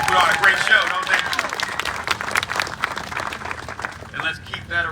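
An audience at a ribbon cutting for apartments in a historic school claps in sustained applause, moderately close and dense, easing slightly toward the end, with a voice speaking over it.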